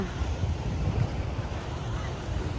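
Steady rushing noise of sea waves breaking on rocks at a Puducherry beach, wind buffeting the microphone, continuous and loud with no clear breaks.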